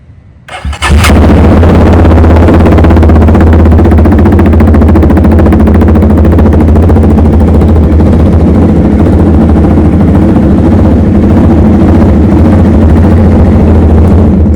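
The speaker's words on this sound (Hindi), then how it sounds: "मैं आपको एक बार बाइक सिर्फ स्टार्ट करके दिखाता हूँ कि बाइक कितनी लाउड इसकी आवाज़ है सिर्फ स्टार्ट में" A Jawa 42 Bobber motorcycle fitted with an uplift exhaust fires up after a brief click, then settles into a loud, steady, throaty idle rumble that continues alone and close by.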